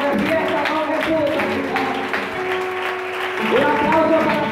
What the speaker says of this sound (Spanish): Un aplauso para toda la iglesia de Capitán 3 esta noche.